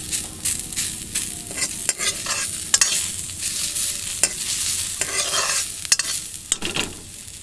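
Boiled, mashed jackfruit fries in a pan while being stirred, giving a steady close sizzle broken by repeated scraping strokes of the spoon against the pan, with no talking.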